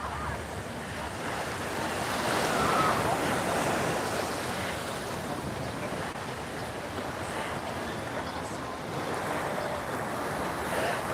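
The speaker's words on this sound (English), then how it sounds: "See all the ocean you can see." Ocean waves and surf roll in along a Hawaii beachfront lined with hotels, a steady broad wash of breaking water with wind buffeting the microphone throughout.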